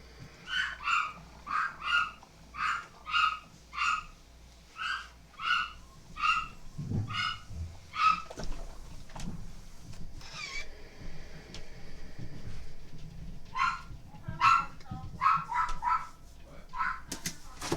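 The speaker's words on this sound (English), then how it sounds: "That is Soleil's bark for him." A dog barks in a quick series of sharp, evenly spaced barks indoors, pauses, then barks again in a shorter burst, with faint household sounds between.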